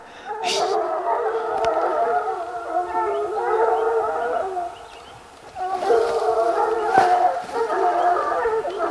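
A pack of Grand Gascon Saintongeois hunting hounds bays and howls in a continuous overlapping chorus at a distance, pausing briefly before swelling again.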